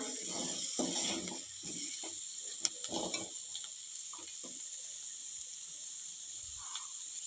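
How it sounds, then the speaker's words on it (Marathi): Bitter gourd curry with chopped coriander is sautéed in a pan, with close scraping stirs and soft clattering strokes over a steady low sizzle, the stirring thinning out toward the end. "कोथंबीर घालून थोडं परतून घेऊया"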